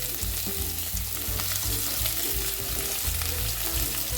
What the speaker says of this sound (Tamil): நல்லா பொரிஞ்சதும் வெங்காயம் போட்டு வதக்கிக்கலாம்.